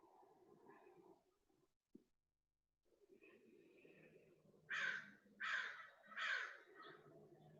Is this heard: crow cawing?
yes